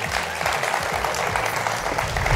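An audience applauds an Armenian contestant with steady, loud clapping that runs throughout, a thick wash of many hands with some low rumble underneath.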